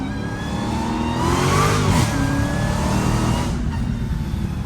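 A Dodge Hellcat engine revs hard under heavy throttle while the car is driven with its hood off. A single rising and falling surge, close and loud, stands out over the steady engine drone.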